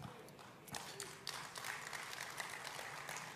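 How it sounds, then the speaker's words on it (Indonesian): Applause from a church congregation during a service, a dense patter of clapping hands that runs steadily throughout at a moderate, somewhat subdued level. "cuma tepuk tangannya kurang semangat"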